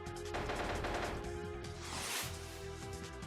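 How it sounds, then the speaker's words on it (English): A firework explosion attack in the Mega Man X Dive video game bursts over loud game music, with a dense crackling blast that swells and fades within a few seconds. "Let me blow you sky high and turn you into a huge-ass firework"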